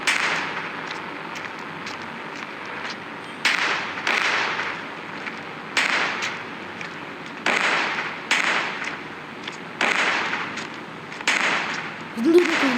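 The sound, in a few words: gunfire in Indian Bikes Driving 3D video game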